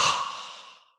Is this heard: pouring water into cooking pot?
no